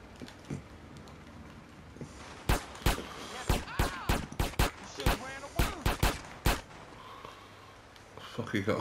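A rapid series of loud gunshots in Grand Theft Auto: San Andreas, about a dozen sharp cracks in quick succession over a background of game ambience, with a voice talking briefly before the burst.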